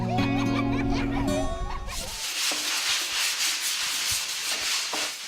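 Sandpaper rubs over a surface being prepared for a few gallons of paint. The scratchy strokes are steady and rhythmic and close by, following a brief passage of tonal music at the start.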